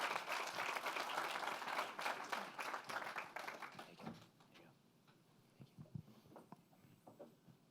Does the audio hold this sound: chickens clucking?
no